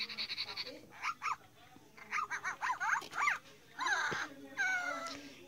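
A FurReal Friends toy puppy gives a series of short, high electronic yips and barks in quick bursts, with faint talk around them.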